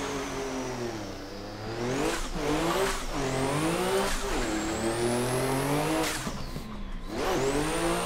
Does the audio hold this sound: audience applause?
no